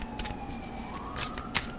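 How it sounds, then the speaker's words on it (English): An ambulance siren sounds in the background, a faint, distant rising and falling wail under scattered clicking and shuffling noises nearby. "they're trying to get your attention with the ambulance in the background"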